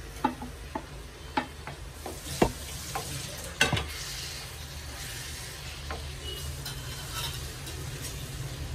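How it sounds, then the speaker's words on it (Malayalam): Chopped lemon sautéing in a pan for pickle, a soft steady sizzle with sharp scraping taps of a spatula stirring now and then, close and fairly quiet. "നന്നായിട്ട് വഴറ്റിയെടുക്കാം."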